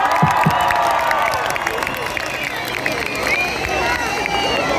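A concert crowd in Elazığ cheers and applauds as the singer comes on stage. The roar is loud and continuous, with whistles and shouting voices throughout.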